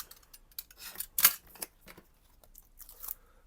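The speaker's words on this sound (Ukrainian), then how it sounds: "Ножицями можна простими їх відрізати." A few sharp snips and crisp cuts from plain scissors trimming double-sided tape while building a power bank, scattered and close, with quiet pauses between.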